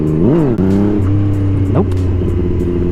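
Yamaha MT-09 motorcycle revving hard and accelerating in a wheelie attempt, the engine note rising and falling in quick surges before settling into a steady drone, loud and close, with no talk.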